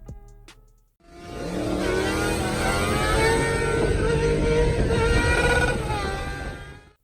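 A Suzuki GSX-R750 motorcycle engine roars to life after a short pause, then holds a loud, sustained rev with rising pitch before easing off near the end.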